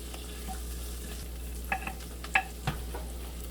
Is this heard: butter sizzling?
yes